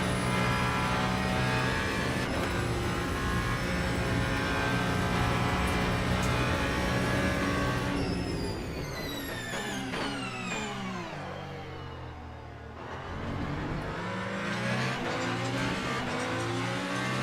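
Race cars circulate at Fuji in Le Mans Ultimate, a loud continuous roar of engines layered together, with a car passing close and its revs sweeping down and back up midway before the dense racing drone returns.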